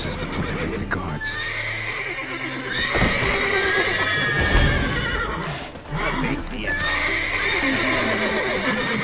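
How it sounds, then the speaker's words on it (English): Several horses whinny and neigh loudly in turn in The Witcher 3: Wild Hunt, with hooves shuffling and clopping between the calls, under a backdrop of game ambience. "Gotta calm all the horses before they wake the guards."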